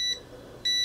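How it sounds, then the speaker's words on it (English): A KAiWEETS brake fluid tester pen gives two short, clear electronic beeps with a brief quiet gap between them, close and alone. "See, it beeps faster when it turns red."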